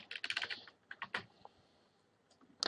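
Computer keyboard typing for a Linux terminal command, a quick burst of close, crisp keystrokes followed by a pause and a few scattered taps, then a final cluster of clicks.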